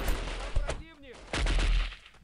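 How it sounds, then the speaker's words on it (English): Video-game gunfire in the shooter Delta Force: a few sharp shots and a short burst from a close weapon, with a brief whistling tone between them. "I'm getting shot by somebody from the grave right now."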